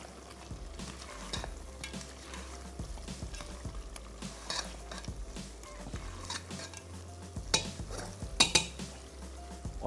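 Chillies frying in oil for nihari, sizzling steadily while a spoon stirs and scrapes against the pot, with occasional louder clinks of metal on metal and no talking.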